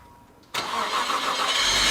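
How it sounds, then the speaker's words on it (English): A Nissan Skyline R34 engine cranks and fires, then settles into a loud, steady idle close by after a brief quiet moment. "The final step in this cleaning process was to turn the engine over and run it till operating temperature"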